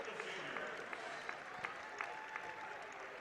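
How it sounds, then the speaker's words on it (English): A home crowd at an Ohio Northern women's basketball game against Baldwin Wallace applauds departing seniors with steady, textured clapping that fills the gym. A voice runs underneath. "getting a well-deserved round of applause"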